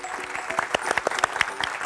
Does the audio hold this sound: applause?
yes